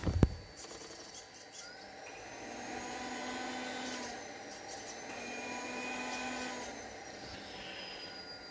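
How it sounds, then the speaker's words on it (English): Steady whirring hum of the cooling fan of a 1/20 scale RC excavator, low and constant, with faint higher whines drifting in and out. "Now you can hear the fan in the background."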